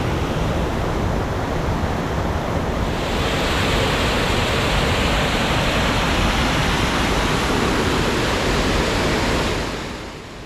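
Mountain valley stream at Yongchu Gugok in Korea, a steady broadband rush of flowing water close by, swelling louder after the first few seconds and fading slightly at the end, with no voices.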